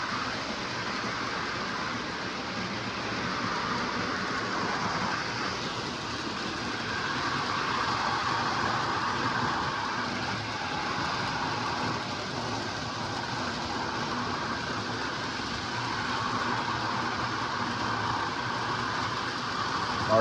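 Lionel O gauge Conrail SD40 diesel model train running on a small home layout, a continuous close mechanical hum and rumble of the motor and wheels that holds steady and swells slightly midway.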